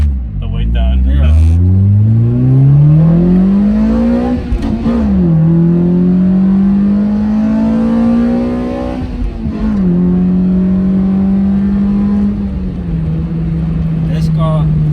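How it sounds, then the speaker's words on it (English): A Toyota Altezza's 3S-GE BEAMS engine revs up repeatedly through the gears, pitch climbing in long pulls then dropping at each shift, loud and close, with people talking over it. "This car loves revs."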